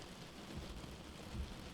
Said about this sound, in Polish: Kapiące kropelki deszczu wygrywały swoją melodię na listkach, przez co cały czas było słychać delikatny szum.